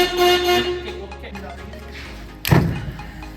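A short, loud electric vehicle horn beep sounds near the end, abrupt and close, after a stretch of quiet background noise.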